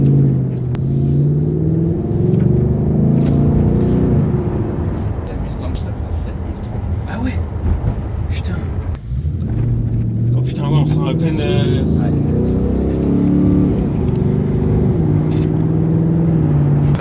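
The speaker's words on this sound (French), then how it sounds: "un sacré boucan, hein. Ouais, on sent que là il y a du V8 quoi" A deep 5-litre V8 engine of a Ford Mustang rumbles steadily from inside the car, its pitch rising and falling with throttle while people talk over it.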